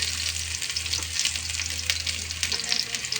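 Ginger sizzles and fries steadily in a hot pan, a close crackling hiss with light stirring scrapes and a low hum underneath.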